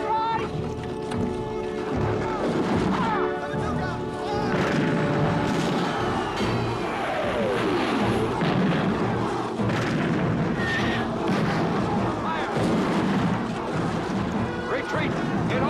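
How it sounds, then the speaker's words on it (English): Artillery guns of a field battery fire covering fire in a battle scene from the film Zulu Dawn, with loud booms and crashes amid a dense, chaotic din of combat and shouting voices. "Can you give me some covering fire for Durnford on the right flank? Number 2 guns, keep hold section right!"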